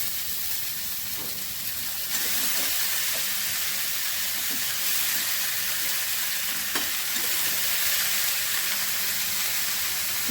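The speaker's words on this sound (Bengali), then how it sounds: "এবারে আমি বাঁধাকপি দিয়ে দিচ্ছি।" Cabbage is tossed into a hot pan of oil, already seasoned with ground cumin and coriander, for a fish-head cabbage dish. It sets off a steady, loud sizzle and frying hiss, broken by a few soft clinks of stirring.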